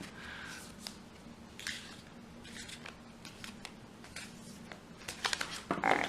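Dry papery riffling and flicking of tarot cards being shuffled in bursts, close up, with small taps and rustles between.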